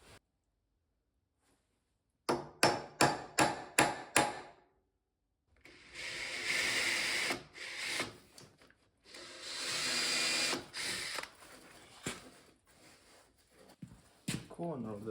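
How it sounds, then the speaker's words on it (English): Several sharp metallic center-punch taps on metal in quick succession, then a pause before a power drill whines steadily in two long bursts, close by, drilling through the metal. "I'm just gonna punch it roughly in the middle, and then just drill through and put a bolt in"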